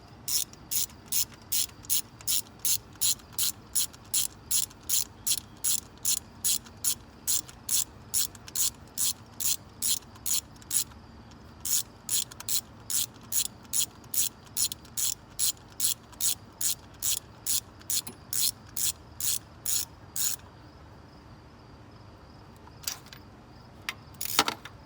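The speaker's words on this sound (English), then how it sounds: "I'm going to tighten my valve cover bolts" Rapid, steady ratchet clicking from tightening valve cover bolts on a 1999 Chevy Prism, sharp close ticks in long even bursts with a short pause near the middle, ending in a few scattered clicks.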